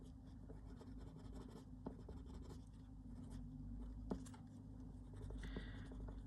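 Coloured pencils scratch and rasp steadily across paper during colouring, a close, continuous dry friction with light taps and strokes throughout.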